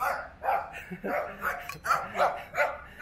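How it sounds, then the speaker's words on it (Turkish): A host family's dog at a high-altitude Tibetan home barks at a guest in a quick series of about seven sharp, close barks in steady rhythm, with no talk over them. "Bu da sürekli benim için havlıyor."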